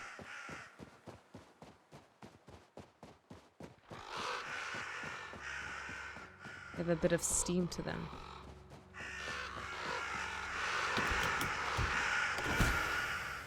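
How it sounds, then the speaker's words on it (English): Crows cawing in Reka, with a series of short evenly spaced calls at first, then bursts of harsher caws amid rustling and other game sounds, while a person talks over parts of it. "The crows are following me."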